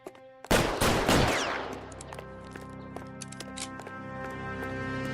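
Gunfire in the L.A. Noire crime video game: a burst of several loud, rapid shots in quick succession, followed by a long ringing decay and scattered faint clicks and taps.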